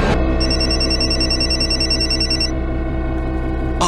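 A cellphone rings loudly and close by with a bright, repeating electronic ring tone. It sounds continuously for about four seconds with no talking.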